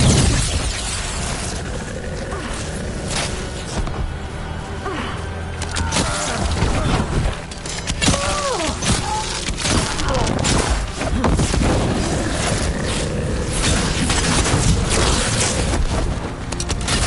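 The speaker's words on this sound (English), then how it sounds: "They've got mortars!" Mortar explosions and gunfire in a video game battle rumble in a continuous barrage, with booms and bursts layered over battle noise while voices shout over the din.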